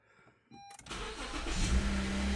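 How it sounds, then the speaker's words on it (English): A 2016 Honda HR-V with a no-crank, no-start fault fires up after a quiet moment of relay clicks and a brief tone, catching and settling into a loud, steady, close idle. Its mass airflow sensor is disconnected. "So right now, the car should fire right up."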